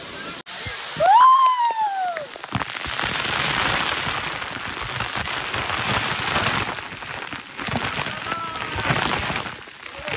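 Steady broadband roar of Bhivpuri waterfall fills the whole stretch, with a crowd of people talking and shouting over the rushing water, and one sharp whistle-like call near the start.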